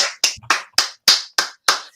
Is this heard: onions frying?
no